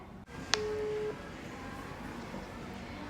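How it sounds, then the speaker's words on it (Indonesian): A phone call is dialed: one short tone, then a single steady ringback tone lasting about half a second, followed by quiet room background. "Kita coba telepon ya."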